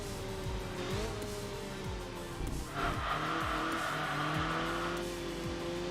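A rally car in Enthusia Professional Racing runs downhill and brakes, its engine note rising and dropping through gear changes while tires squeal through the middle of the run, loud and steady with no talking.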